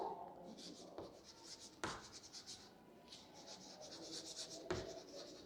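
Scratchy strokes of writing on a board during a voltage multiplier lesson, coming in short bursts with occasional taps, close and fairly quiet.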